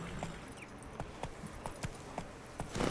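A horse's hooves in The Witcher 3 video game, clip-clopping at a steady walking rhythm, evenly spaced and moderately close, with a louder scuffle near the end.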